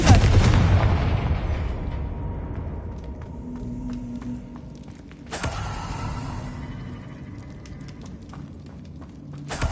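A Confringo blasting spell from a Harry Potter video game detonates with a loud burst at the start, then a decaying rumble; a second sharp blast follows midway, trailed by scattered crackles and clanks.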